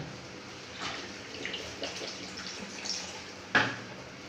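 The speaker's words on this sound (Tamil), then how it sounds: "கொஞ்சம் தண்ணி ஊற்றிக்கலாம்" Water is poured into a simmering pot of home-cooked curry with broad beans, making a soft, steady splashing that runs for a few seconds, with a brief louder splash near the end.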